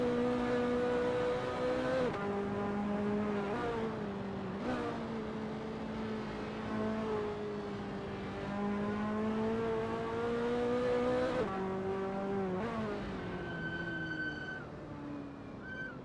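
Ferrari F40 racing at Kyalami '67 in a racing game, a steady loud engine drone with harmonic whine that dips and rises through several gear changes over about sixteen seconds, no voices.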